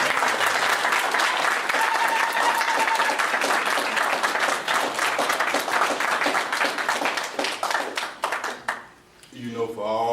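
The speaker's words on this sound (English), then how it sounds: "Give Grace a clap." An audience claps for Grace, a dense sustained round of applause that runs steadily for several seconds, then trails off as a voice begins speaking near the end.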